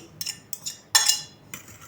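A fork clinks against a bowl while stirring a batter of beaten eggs, salt and finely grated onion: four or five short, bright metallic taps at an uneven pace, close and fairly quiet, with no talking.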